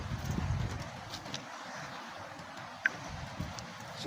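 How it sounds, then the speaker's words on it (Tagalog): Carabao (water buffalo) walking through farmland, with soft, muffled hoof clops in an uneven rhythm, close but faint against light outdoor wind and rustle. "Yung kalabaw na ito."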